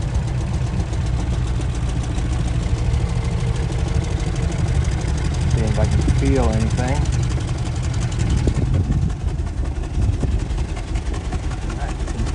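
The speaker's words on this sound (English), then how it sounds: "you can hear the sound of the exhaust back here" Low, steady idle of the finished exhaust on a 1967 Lincoln, a deep continuous rumble with someone talking briefly over it.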